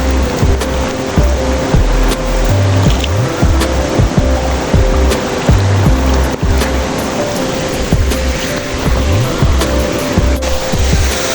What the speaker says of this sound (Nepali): दुप्चेश्वर महादेव मन्दिर जानको लागि चाहिँ यो खोला तरेर जानुपर्छ।